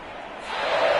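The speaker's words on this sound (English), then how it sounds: "And the home crowd applauding." Home crowd at a Las Vegas Raiders football game applauding after a victory, a broad, steady wash of clapping and cheering that swells louder toward the end, with no talk over it.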